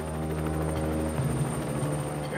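A helicopter hovers above a cruise ship while a sedated patient is winched up from the deck, its rotor a loud, steady throbbing whine with a continuous drone, close and without speech.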